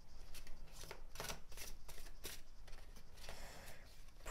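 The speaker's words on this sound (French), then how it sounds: "On va prendre une carte de l'oracle des murmures de guérison." Oracle cards being shuffled and drawn from a deck close to the mic: repeated crisp riffling bursts and papery slides in an uneven rhythm, fairly quiet, with no talking.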